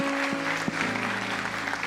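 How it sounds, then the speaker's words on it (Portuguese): A church congregation claps in praise during a Baptist service, a brief spread of applause sitting under a sustained organ or keyboard chord. "Vamos aplaudir ao Senhor em nome de Jesus."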